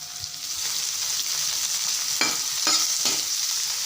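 Onions sautéing in hot oil in a pan, stirred with a large rice ladle: a steady loud sizzle runs throughout, with a few scraping strokes of the ladle near the end.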